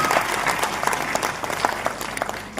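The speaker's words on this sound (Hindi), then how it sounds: "सीमा जी के लिए भी बहुत तालियां जोर से" A crowd at an Asian Art & Cultural Society award ceremony applauds a guest, giving steady, moderately loud clapping with distinct individual claps standing out through the wash.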